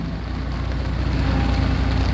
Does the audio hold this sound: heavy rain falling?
yes